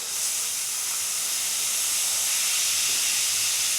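Air hisses steadily out of a tire tube through its open valve after the stem is pulled, a close, continuous rush that holds even and strong throughout with no talk.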